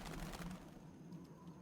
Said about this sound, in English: The takeoff sound for the birds is quite loud, isn't it?